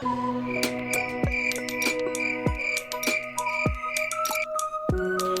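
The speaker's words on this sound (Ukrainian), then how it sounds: "цвіркун йому пісні співав" Cricket chirping as a sound effect in a Ukrainian children's audio tale, with a steady pulsing chirp repeating over sparse musical tones and no talk.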